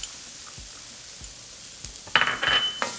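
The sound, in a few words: onion sautéing in hot oil in a skillet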